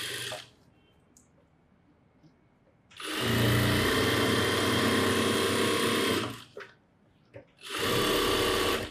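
An electric sewing machine stitches a churidar at a tailoring lesson, running in two loud whirring bursts with a quiet pause between them and faint sounds in the gaps.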